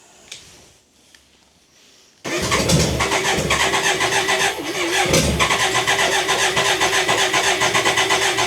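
A BMW K100 motorcycle engine cranks with the choke on and catches at about two seconds, then runs loudly and unevenly up close, rising again near the end; quiet clicks come before it starts.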